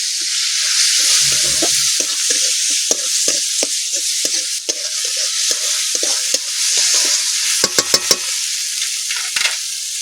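Ground tomato paste, turmeric, ginger paste and red chilli paste frying in oil for a silver carp curry, a loud, bright, continuous sizzle with spatula scrapes and a few quick clacks near the end.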